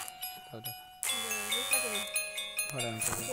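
A melodic electronic ringtone plays a repeating chime pattern, loud and clear, with a short gap before the tune resumes.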